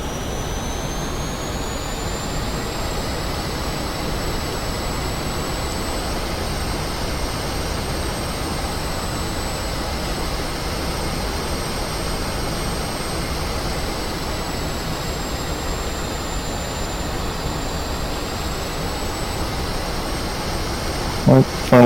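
A MiG-15bis jet engine drones steadily in flight in the DCS World simulator, a loud, unbroken roar with a thin high whine that drifts slightly in pitch, holding alone for about twenty seconds.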